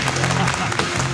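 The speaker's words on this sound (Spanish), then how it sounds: "¡Fuerte el aplauso!" A brief burst of studio audience applause, loud and continuous, with a steady tonal hum running underneath.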